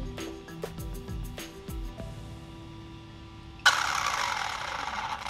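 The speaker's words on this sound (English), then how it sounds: "Just making sure the motor's turning in the right direction." An RC car motor spun up during bearing break-in after a Boca bearing swap, with a few short whirring revs and ticks at first, then a loud, steady high-pitched running whine close by.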